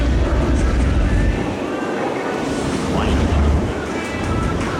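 A Yak-110 aerobatic airplane hovers at an airshow, its engine a steady, loud broadband roar with a heavy wind-buffeted rumble that surges and eases slightly throughout.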